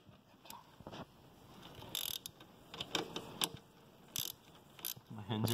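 Ratchet wrench tightening the oil drain plug on a Boom 50cc scooter during an engine oil change, heard as a series of short clicking bursts up close with pauses between them.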